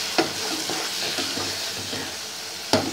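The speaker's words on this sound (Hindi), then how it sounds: "ये देखिए हमारा मसाला फास्ट फ्लेम पर भून रहा है" Masala with chilli and ginger-garlic paste fries on a high flame in a steady, loud sizzle. A few spoon scrapes and stirs cut through it, all up close and with no talking.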